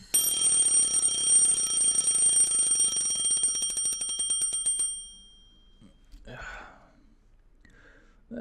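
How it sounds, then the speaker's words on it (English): An alarm clock rings loudly and continuously at close range for about five seconds, then cuts off, leaving near quiet with soft breathing or a sigh. "I shut off the alarm by reflex."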